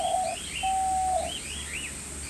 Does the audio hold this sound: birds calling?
yes